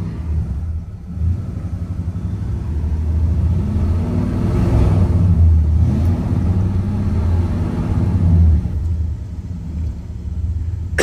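A 1967 Pontiac GTO V8 fitted with an Edelbrock intake idles steadily at about 1,000 rpm, a deep, even rumble that stays close and loud with slight swells for the full length and no voices over it.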